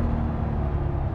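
A 1990s yellow Honda NSX with a VTEC V6 of around 270 horsepower gives a brief, steady low engine rumble, held at an even level with no talk.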